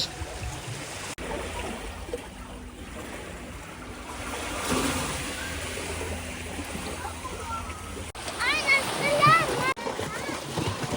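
Sea waves wash onto a beach at an Egyptian resort as a steady, soft surf wash under wind, with people talking nearby and a brief splash of voices near the end.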